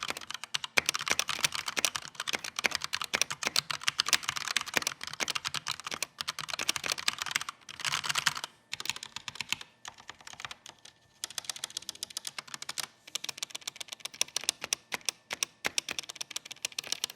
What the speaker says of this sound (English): Here's a quick sound test though, so you guys can hear it for yourselves.